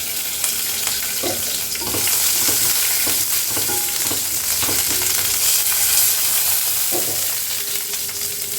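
Steady loud sizzle of chopped ginger and garlic frying in hot oil, with a few soft clinks of stirring scattered throughout; nobody speaks.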